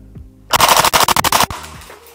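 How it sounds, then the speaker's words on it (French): VFC FAL Type III airsoft gas blowback rifle firing on full auto: one loud, close, rapid burst of about a second of sharp cracking shots, preceded and followed by quieter background. "Et maintenant, on va mettre un petit full auto."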